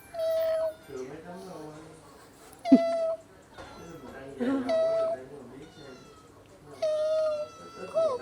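A cat on a beach trip in Vietnam meows several times in short, fairly loud calls spaced a couple of seconds apart, with people talking around it between the calls.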